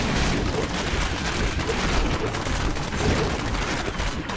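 Overlapping explosions burst in a Diablo 3 fight, a dense, unbroken barrage of crackling blasts and booms with no pauses and no voices.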